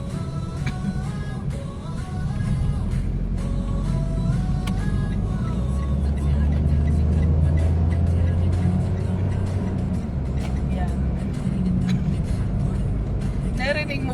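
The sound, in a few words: car engine revving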